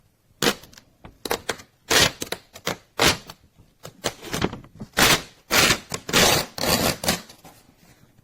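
Paper printed by a Phomemo M834 A4 thermal printer being torn off by hand, a series of loud ragged ripping bursts and rustles in uneven spurts, with no talk.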